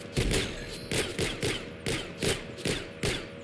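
Video game gunfire, with repeated bursts of shots in an irregular rhythm, about eight sharp volleys over a few seconds, moderately loud with no speech over them.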